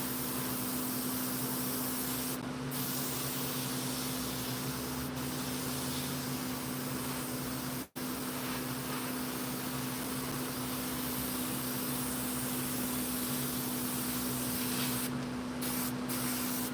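An airbrush sprays paint onto chainsaw carvings, giving a steady close hiss that runs almost unbroken with one brief cut-off midway, over a constant low hum.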